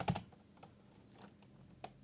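Soft, close clicking of fingers typing on a computer keyboard while entering a command in a Linux terminal, a few quick keystrokes followed by sparse, scattered taps, faint and without speech.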